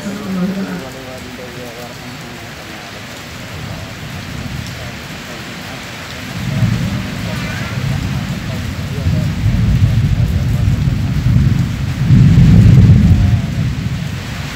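Heavy rain pours steadily with rumbles of thunder swelling in the low end, loudest near the end, while a voice talks over the downpour.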